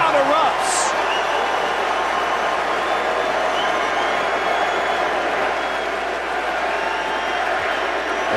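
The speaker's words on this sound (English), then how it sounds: "and the crowd erupts" Basketball arena crowd at an NBA game, Cavaliers at Raptors in the 2009–10 season: a dense, sustained roar of cheering that holds steady throughout.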